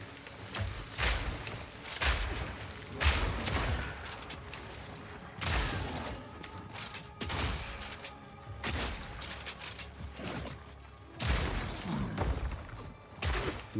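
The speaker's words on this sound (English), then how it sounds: "Grenades! Out!" Grenades explode over and over in the Path of Exile 2 video game, about eight loud, sharp blasts at irregular intervals, each with a short rumbling tail and mechanical clatter between them.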